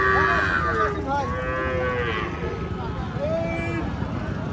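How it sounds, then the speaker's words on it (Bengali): Calves, local and crossbred, bawl repeatedly with long wavering moos at a busy cattle market, several animals calling over crowd chatter and voices talking nearby. "দেশি বাছুর এবং সাইবাল নানা প্রজাতির বাছুর"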